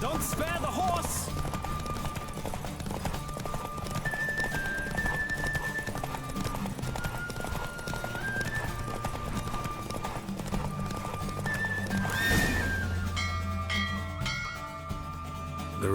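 A horse gallops in The Witcher 3 video game with rapid, steady clip-clop hoofbeats throughout, under a sustained game music track and a speaking voice, with a brief swell near the end.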